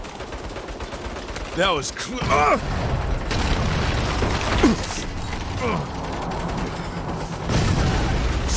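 Automatic turret gunfire in the Saints Row game, bursts of shots and heavy booms running under shouted voices throughout, with whooping siren-like tones early on and a loud surge near the end.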